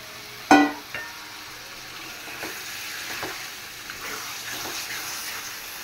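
Chicken pieces drop into a pan of sautéed spices for biryani with a loud, close splash and burst of sizzling, then settle into a steady, softer fry with light stirring scrapes.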